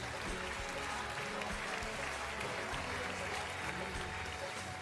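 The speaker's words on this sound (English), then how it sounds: "Huge applause for him, please." Applause from an awards-ceremony audience honouring a doctor, a dense continuous wash of clapping at even level throughout, no single claps standing out.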